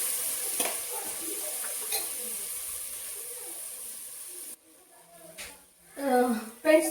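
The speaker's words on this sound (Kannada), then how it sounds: "ಈ ಥರ ಅದು ಚೆನ್ನಾಗಿ ನೀರೆಲ್ಲ ಬಿಟ್ಕೊಂಡು ತುಪ್ಪದಲ್ಲೇ ಫ್ರೈ ಆಗ್ತಾ ಇದೆ" Raw jackfruit pieces frying in ghee on a low flame for pulao, a steady soft sizzle for several seconds that drops out, after which a person speaks over fainter frying.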